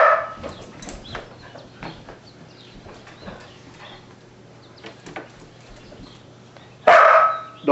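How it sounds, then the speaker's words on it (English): A dog barks during play with another dog: a few scattered, fairly close barks and yelps, then one loud burst near the end. A rooster or other fowl may be calling faintly in the background. "Don't bark. No bark."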